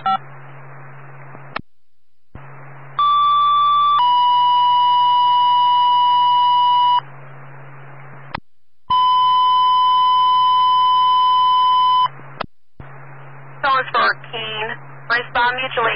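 Fire dispatch alert tones over a radio channel: two long sustained tone pairs, each separated by static hiss and squelch clicks, with a dispatcher's radio voice following.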